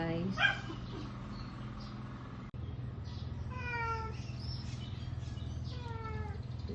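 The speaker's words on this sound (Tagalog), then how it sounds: "Yan ang pusing ni Jordan guys." A cat meows repeatedly, a few distinct rising calls spaced over several seconds, heard against a steady low background hum at a moderate distance.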